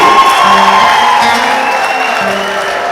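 At a Rwandan wedding, the gathered families welcome the groom with steady applause and cheering. Ululation rises over a dense, loud crowd din that holds evenly throughout, with a voice audible within the noise.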